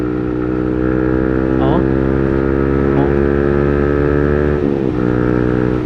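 A remapped 2024 Yamaha MT15 motorcycle engine idles loudly and steadily up close, then gets short blips of the throttle that make it rev up and drop back.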